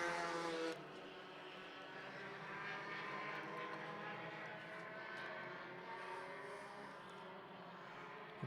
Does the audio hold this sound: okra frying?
no